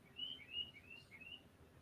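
Birds chirp outdoors in a string of thin, high tweets over a soft, steady background hush, faint and somewhat distant with no talk.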